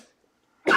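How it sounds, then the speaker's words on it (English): A single short, loud cough bursts out at the end after near silence, from someone recovering from an illness. "Excuse me if I cough."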